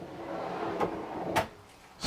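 Two soft thuds of a soft-close drawer sliding shut in a Pilote P690D motorhome, the second firmer, over a quiet room hum, with no talking.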